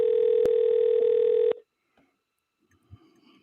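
A steady telephone dial tone with a single keypress blip sounds alone for about a second and a half as a call is placed to a radio show guest, then cuts to near silence with faint line noise.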